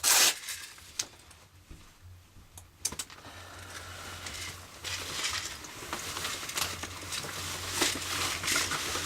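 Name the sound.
airsoft vest being taken off, zipper or fasteners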